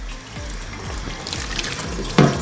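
Tap water runs into a cooking pot for pasta, with a steady close splashing trickle and a brief louder burst of water near the end.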